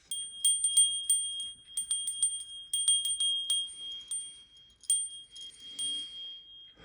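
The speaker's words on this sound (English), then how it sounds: "You might be able to hear the wind chimes." Bright metallic chimes tinkle in loose, irregular clusters of strikes, ringing clearly with a steady tone underneath and no voices.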